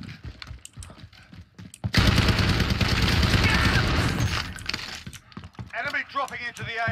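A Rytec AMR anti-materiel rifle in Call of Duty: Modern Warfare fires explosive rounds, producing a loud crashing burst of blasts that follows scattered clicks and soft clattering. A voice speaks briefly near the end.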